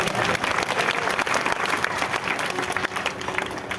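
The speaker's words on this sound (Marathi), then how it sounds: "या सुंदर झाकीसाठी, या सर्व पात्रासाठी एकदा जोरदार मनापासून टाळी वाजवा" An audience at a devotional tableau performance bursts into sustained applause, dense clapping throughout with a faint crowd murmur.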